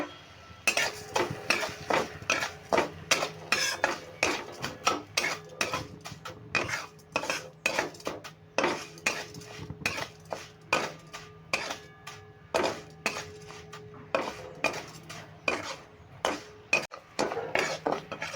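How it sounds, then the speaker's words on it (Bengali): About four spoons of sugar are stirred in a pan over medium heat to make caramel for crispy biscuits. A spoon scrapes and clinks against the metal in a steady, repeated rhythm, close and fairly loud, with no talking. "আমি চার চামচ মতন চিনি দিয়ে একটা ক্যারামেল তৈরি করে নেবো"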